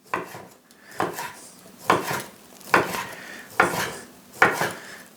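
Knife slicing cabanossi sausage into a pot of krupnik barley soup, six evenly spaced chopping strokes that land sharply on a board, close and clear with no talk.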